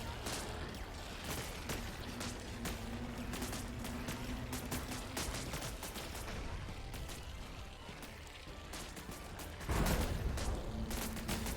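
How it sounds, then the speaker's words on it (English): Battle of tanks and missile launchers in the RTS autobattler game Buggos, a dense, continuous clatter of rapid gunfire and small blasts with a heavier explosive boom near the end, loud and without speech. "The combination of tanks and missile launchers."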